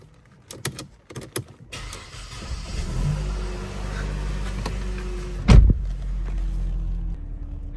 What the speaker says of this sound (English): let me just start this car